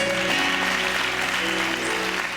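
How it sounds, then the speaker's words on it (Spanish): A crowd at a live Christian worship concert applauds steadily while sustained music tones hold underneath. "un fuerte aplauso a Jesucristo por cada una de las generaciones"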